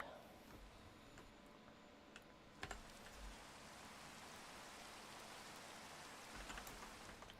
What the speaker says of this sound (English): I do hate the rain though.